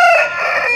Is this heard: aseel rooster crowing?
yes